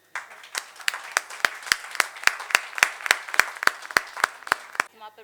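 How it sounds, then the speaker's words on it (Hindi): Rhythmic, evenly spaced claps, about fifteen sharp hits at a steady beat, at a Lata Mangeshkar 96th birthday tribute event where an award is presented, with a voice talking alongside. "उसको 7-8 तालियां समेट लें"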